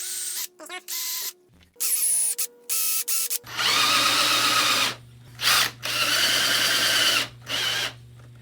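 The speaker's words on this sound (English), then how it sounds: "I'm going to be drilling all the way through from this direction" A power drill whirs in repeated bursts, driving screws through wood, starting and stopping several times, close by with a constant hum underneath.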